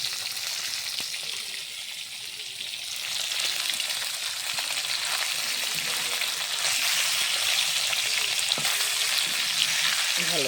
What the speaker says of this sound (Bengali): ভালো করে উল্টে উল্টে ভেজে নিচ্ছি।